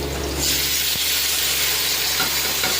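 Yogurt-marinated mutton rubbed with ginger, cumin, pepper, salt and turmeric hits a hot pan with a sudden loud sizzle that settles into a steady, close frying hiss with faint stirring scrapes, no voices.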